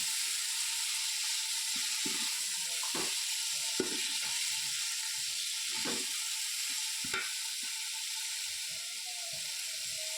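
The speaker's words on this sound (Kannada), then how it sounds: "ಟೊಮೆಟೊ ಸ್ಮೂತ್ ಆವನ ಮುಟ ಒಂಚೂರು ಫ್ರೈ ಮಲ್ಪುಗ" Chopped tomato and grated coconut frying in a pan for chicken sukka, giving a soft, steady sizzle with occasional spatula scrapes and knocks, close but fairly quiet, no voices.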